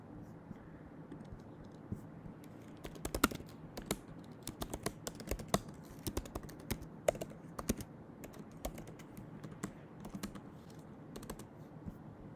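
Fast, uneven typing on a computer keyboard while code is written for a Codeforces programming problem, with close, crisp key clicks in bursts and someone talking quietly underneath.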